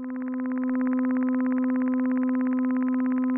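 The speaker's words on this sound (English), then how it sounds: "we're focusing on the wet sound coming out of the reverb module" The wet output of a Synthrotek Verb modulated resonator reverb module: a steady synthetic tone hums continuously with a fast, even pulsing texture, swelling in at the start and then holding level.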